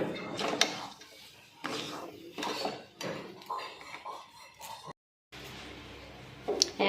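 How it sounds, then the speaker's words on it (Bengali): Metal spoon scraping and clinking against a pot as semolina is stirred into hot water, a series of irregular close scrapes and knocks with a brief silent gap. "এবারে 1 কাপ সুজি দিয়ে জলটার সঙ্গে কিন্তু ভালো করে মিশিয়ে নিচ্ছি।"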